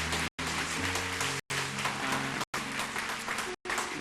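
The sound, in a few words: church congregation applauding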